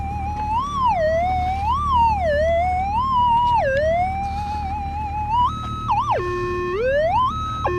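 Warbling metal detector tone sweeps up and down over a big target in a gold nugget field, loud and continuous, shifting into stepped pitches near the end, with no talk.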